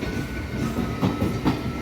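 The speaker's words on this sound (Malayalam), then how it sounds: "നമ്മൾ ഒറ്റപ്പാലം റെയിൽവേ സ്റ്റേഷനിൽ നിൽക്കുന്നതിൻ്റെ ഇടയ്ക്ക് ഒരു മെമ്മു കടന്നു പോവാണ്" MEMU train passing through Ottapalam railway station in Kerala, a steady close rumble with rhythmic wheel clatter, no voices.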